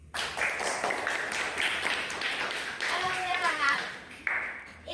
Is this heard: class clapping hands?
yes